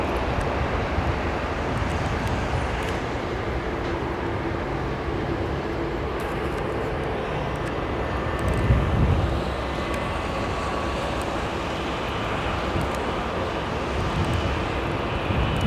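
A Saudi Arabian Airlines airliner gives a steady, loud, close jet roar that holds evenly throughout, with a slight swell near the middle and no talk.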